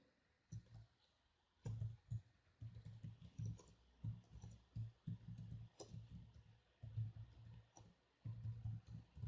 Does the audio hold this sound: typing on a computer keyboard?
yes